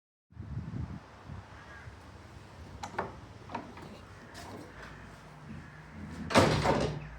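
Huge ancient wooden door of Middleton Church opening, with scattered creaks and knocks building to a louder scraping groan near the end, fairly quiet and close with a faint room ambience.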